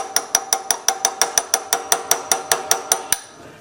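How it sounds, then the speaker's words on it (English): A chisel hammered against the hardened metal of a Sears generator shaft rings out in about sixteen sharp, evenly spaced metallic strikes, loud and close, each with a brief ringing tail, then stops. "Try and chisel this away a little bit."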